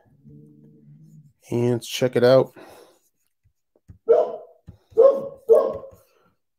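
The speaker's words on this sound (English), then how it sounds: "Dogs are killing me barking." Dogs bark in a few short, sharp bursts near the end, following a stretch of someone talking.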